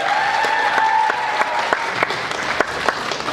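Loud audience applause in a hall at a university KVN comedy league final, dense clapping with sharp individual claps standing out, plus a sustained tonal hum or whistle early on, close and strong throughout.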